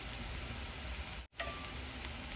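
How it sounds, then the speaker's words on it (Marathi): Chopped garlic sautéing with browned onion in a pan, a steady close sizzle with a brief dropout midway, no voices. "यात बारीक चिरलेला लसूण घालूया"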